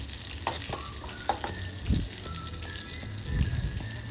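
Chopped mushroom stems and garlic frying in butter in a pan while being stirred, a steady sizzle with soft scraping strokes and a few louder stirring bursts, close and without talk.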